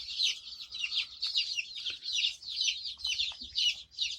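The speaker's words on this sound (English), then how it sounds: "Got the chickens on deck. The baby chicks." Chickens and baby chicks on a farm give a steady run of high, overlapping chirps and clucks across the whole stretch, close by and fairly clear, with no talking.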